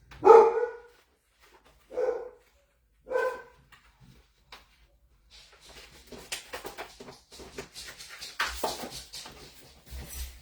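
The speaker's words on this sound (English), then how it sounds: "I'm sorry about my dog." A dog barks three times in spaced, sharp bursts, then quieter rustling and shuffling noises follow with a faint yip amid the movement.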